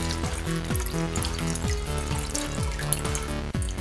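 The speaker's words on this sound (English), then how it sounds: "And you pour it in there, nice and gently." Martini poured gently from a shaker into a glass, a continuous close trickle of liquid with small clinks and gurgles as it flows, alone without any talk.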